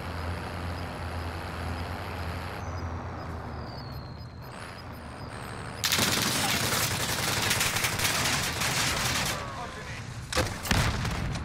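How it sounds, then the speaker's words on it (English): Gunfire in Warzone raking a vehicle: dense rapid automatic bursts roar up mid-clip over a steady engine drone and ambient game noise, loud and close, with a few scattered sharp cracks near the end. "Shot the vehicle up a little bit"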